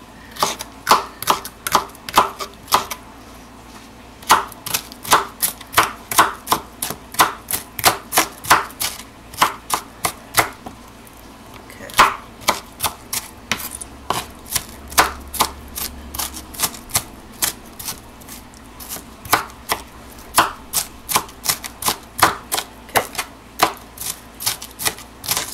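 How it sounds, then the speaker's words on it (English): Rapid, rhythmic knife chops on a board as vegetables are cut into small pieces, close and sharp, coming in bursts with brief pauses between runs, no voices. "just chop all that up to little pieces without chopping your finger off"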